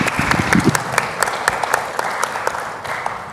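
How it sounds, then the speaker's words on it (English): A university lyceum audience claps for guests, loud and close, with individual claps standing out in an uneven, thinning round. "Let's give them a round of applause for joining us"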